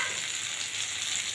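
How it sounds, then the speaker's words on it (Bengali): Potatoes and tomatoes fry together in a pan for a vegetarian potato and pointed gourd curry, giving a soft, steady sizzle that runs evenly throughout with no talking. "আলু আর টমেটো একসাথে দিয়ে দিই"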